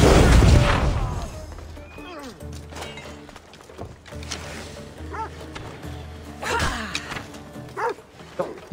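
A hostile dog in the video game Assassin's Creed Odyssey barks and snarls during an attack, with repeated yips and bow-wows amid combat thuds and booms, mixed with game noise and moderately loud.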